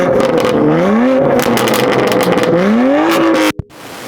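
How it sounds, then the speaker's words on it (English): Modified BMW M2 Competition with an equal-length mid pipe and stock back box revs hard, loud exhaust climbing and falling in two sweeping blips with crackles, then cutting off abruptly into a sharp pop and quiet. "So we're going to give mine a quick rev now"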